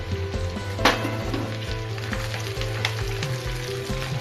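Kangkong (water spinach) hitting a hot pan of sauteed onions, giving a steady close sizzle and crackle with a sharp burst near the start as the greens go in, no voices.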